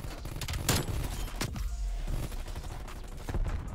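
Gunfire from dual Diamatti pistols in a Call of Duty Black Ops Cold War multiplayer match, dense bursts of rapid shots with sharp loud cracks at intervals over a steady noisy battle background.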